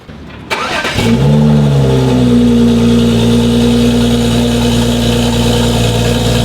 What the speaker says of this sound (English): Go ahead and flash a map. Stage 2 plus. Okay, here we go, cold start.